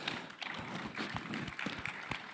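Steady applause from an audience at an event, a continuous patter of many hands clapping at moderate distance, with no one speaking.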